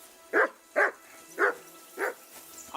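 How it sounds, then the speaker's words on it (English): A dog barks in the medieval video game Kingdom Come: Deliverance II, giving five evenly spaced, mid-pitched woofs that sound fairly close and carry no talk over them. "I assume you can hear that damn dog of yours barking."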